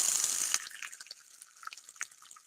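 Pop Rocks candy fizzing in a bowl of water, a faint scattered crackle of tiny pops after a brief splash of pouring water at the start.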